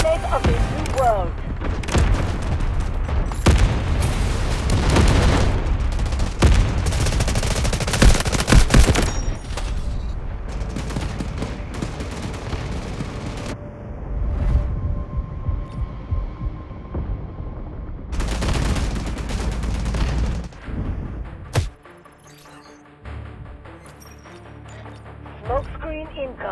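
Gunfire and heavy artillery explosions in the Delta Force game, with dense bursts of shots and booms over a battlefield that thin out toward the end, mixed with voices talking.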